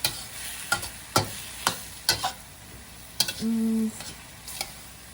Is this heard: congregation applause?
no